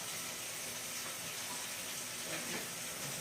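Liquid running off chicken wings as they are drained before frying, a steady hissing, splashing pour like tap water into a sink, close and continuous with a brief louder surge near the end.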